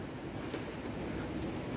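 A train running on a railway near a campsite in Modane, a steady broad rumble with wind-like hiss that holds evenly throughout, moderately close.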